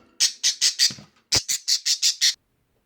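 Birds squawk in a rapid series of about ten harsh, loud calls in two quick bursts, close by, with a short pause between bursts and silence at the end.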